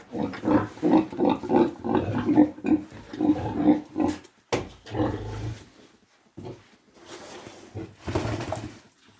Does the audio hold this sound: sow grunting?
yes